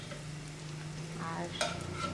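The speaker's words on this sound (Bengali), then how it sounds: "পেঁয়াজগুলো সুন্দর করে ভেজে নিলাম," Onions frying in a pan for an evening snack, with steady sizzling and stirring scrapes building toward the end; no talk.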